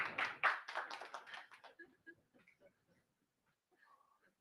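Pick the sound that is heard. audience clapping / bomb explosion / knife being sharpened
audience clapping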